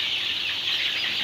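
Fayoumi chickens clucking and chirping together while being fed on a farm, a dense, steady chorus lasting only a moment.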